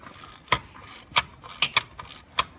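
Ratchet turning chain guard bolts on a Polaris RZR 200, a series of close, crisp metallic clicks from the pawl mechanism in an irregular rhythm of about six strokes.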